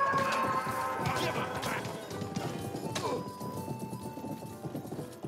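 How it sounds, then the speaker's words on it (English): Horse hooves in the medieval video game Rustler clatter in a quick rhythmic clip-clop, mixed with crashing thuds and a whinny over busy game sound, with speech faintly present. "Kicking horse maneuver"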